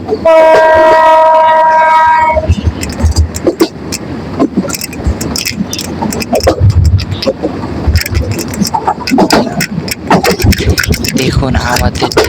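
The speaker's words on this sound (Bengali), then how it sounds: "দেখুন আমাদের ট্রেন চলছে টকবগে।" Passenger train running through countryside, starting with a loud horn blast, then steady rumbling and rhythmic clatter of wheels on rail joints close by, with some voices in the carriage.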